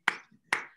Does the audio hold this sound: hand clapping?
yes